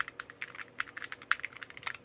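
Rapid typing on a mechanical keyboard with lubed Holy Panda switches, a steady patter of crisp clicky keystrokes with a few louder strikes, close up and with no voices.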